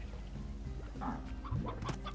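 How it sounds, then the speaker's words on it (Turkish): Chickens clucking in the video game Slime Rancher, a few short soft clucks over a steady low ambient game hum with no talk. "Şu yukarıda tavuklar vardı."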